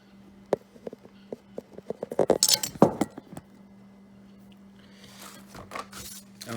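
A two-part epoxy package being opened for an LED brake light repair on a 2016 GMC Yukon: a run of sharp clicks and crinkly packaging rustles, close and fairly loud, building to a dense cluster before a softer tearing hiss, with no talk.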